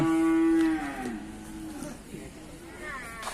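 Cattle at a livestock market in Nan, a loud, close cow moo that opens the clip and tails off, followed by fainter market background and a brief second call near the end.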